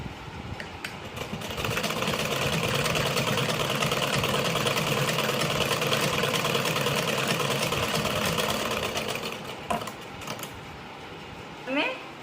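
A sewing machine runs steadily on blouse fabric for about ten seconds with an even, rapid mechanical whir. It slows and stops near the end, followed by a few brief clicks.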